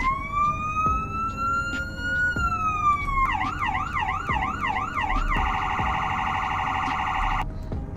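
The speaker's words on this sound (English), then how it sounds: "Here are the police lights with our sirens." A police car siren in the video game Greenville sounds loud and close, rising in a long wail, then switching to a rapid warbling yelp and ending on a steady high-low tone, with no talk.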